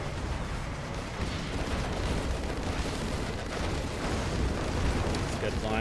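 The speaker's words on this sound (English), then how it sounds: "Scud launcher coming in, taking out an Emperor tank" Missile strikes from a Scud launcher in a real-time strategy battle, a dense, continuous roar of overlapping booms and blasts with no clear gaps, loud throughout, with a voice talking over it.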